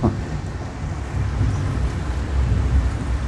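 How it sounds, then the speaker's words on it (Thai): Strong wind in a Bangkok rainstorm roars and buffets steadily close to the microphone, a dense rushing noise with no voices. "ลมแรงมากนะครับจนต้นไม้หัก"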